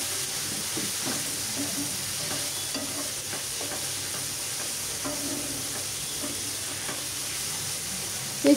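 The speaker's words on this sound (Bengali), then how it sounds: "এভাবেই আমি মশলাটা কষাতে থাকবো।" Ground spices — turmeric, chili and coriander powder — fry in a pan with tomato while being stirred, giving a steady close sizzle with scraping strokes of the spoon throughout and a louder knock near the end.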